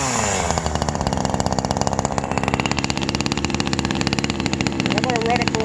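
A JonCutter 2500 top-handle chainsaw runs steadily just after starting, its small two-stroke engine buzzing loud and close with a fast, pulsing rattle throughout.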